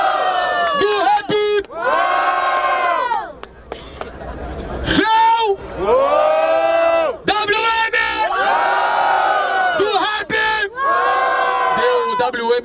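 A loud crowd at a rap battle in Barueri, Brazil cheers and yells in waves while someone shouts into a microphone over the noise.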